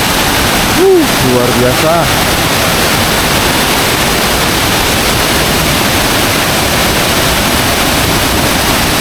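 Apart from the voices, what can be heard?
strong waterfall flowing in the forest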